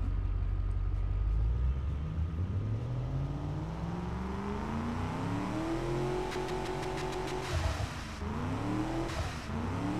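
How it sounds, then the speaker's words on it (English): Simulated car engine from the Automation car-design game, a V6-like motor on an 80s coupe, revving up steadily and climbing in pitch, then dropping and rising again, loud and continuous with no talking. "But not a bad sounding motor. Sounds a little bit like a V6."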